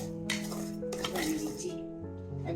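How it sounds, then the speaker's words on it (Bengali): Coconut filling with palm jaggery (patali gur) being fried and stirred in a pan, with metal utensil scraping and clinking against the pan in irregular bursts, close up, with faint voice traces in the background. "গুড় দিয়ে করবো পুরটা, পাটালি গুড়। আমি একটু ভেজে নিচ্ছি"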